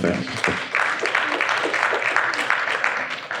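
A conference audience applauds a panel speaker, a moderate, steady patter of clapping that lasts a few seconds, with a voice briefly at the start.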